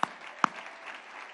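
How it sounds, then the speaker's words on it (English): Audience applause at a charity walk kickoff event, a soft wash of distant clapping with two sharp nearby claps standing out at the start. "Let's give them one more round of applause."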